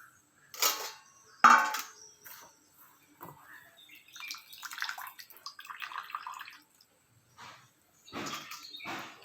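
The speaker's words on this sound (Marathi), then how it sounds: "जवळा भाजते भाजून झाला आता धुवून घेते" Small splashes and water sloshing in a bowl come in short bursts with pauses, as roasted dried shrimp are rinsed by hand up close.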